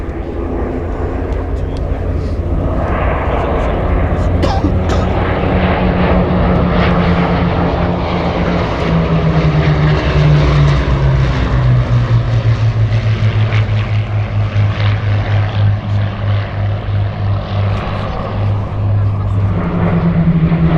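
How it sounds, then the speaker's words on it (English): A Hawker Hurricane fighter, a wood and fabric fuselage propeller aircraft, flies past at the Sywell airshow with a loud, steady engine roar that rises and shifts in pitch throughout, with a voice talking over it. "this aircraft really does sound like it's going very, very, very fast, just because the wood and fabric fuselage"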